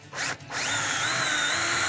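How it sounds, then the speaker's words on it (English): A power drill bores a small pilot hole while installing flat track hardware, with two brief revs followed by a loud, sustained high whine from the motor as it spins up close by. "I'm going to be drilling a small pilot hole, then enlarge the hole"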